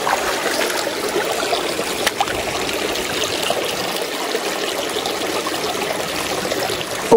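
A small creek in the upper section of a native brook trout stream in early fall flows in a loud, steady rush and babble, close by, continuous and without voices.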